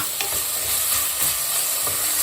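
Small chicken pieces sizzle steadily in a hot pan, with a dense, crackling frying hiss and light stirring scrapes, close by.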